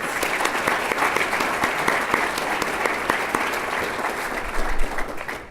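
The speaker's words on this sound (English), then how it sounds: "Can we have a round of applause for those kids?" An audience at an annual charity dinner applauds the students, a dense, steady wash of clapping from many hands that holds evenly throughout.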